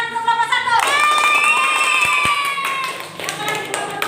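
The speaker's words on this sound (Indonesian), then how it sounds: "Ya, tepuk tangan untuk kelompok 1." Classroom applause for a student group after a quiz on Surah Al-Falaq, a steady wash of clapping hands that rises quickly and fills the room, with some chatter and voices mixed in.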